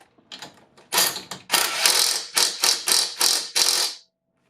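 An impact wrench tightens a 12 mm bolt on a 2008 Acura MDX during front axle work, firing a string of about seven sharp, loud rattling bursts in quick succession before stopping.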